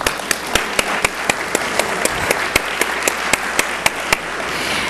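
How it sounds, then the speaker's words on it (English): Audience applause for a panel at a regional transportation planning annual meeting, a steady crowd wash of clapping with sharp individual claps standing out at a regular beat, sustained for about five seconds without speech. "Let's give our panel a round of applause."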